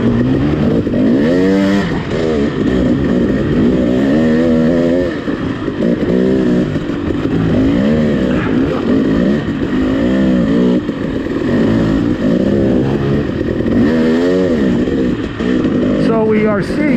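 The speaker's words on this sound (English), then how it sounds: "following Jeremy here on his brand new 2020 KTM XC non-W." Brand-new 2020 KTM XC non-W dirt bike ridden on a trail, engine droning and revving continuously up close, with rising and falling pitch through gear changes and throttle blips, mixed with other bike engine noise throughout.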